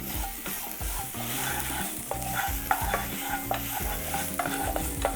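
Black garlic stirred and broken up in a pan with frying shallots, giving a steady sizzle under repeated scraping stirs and clinks, close and continuous, with no voices.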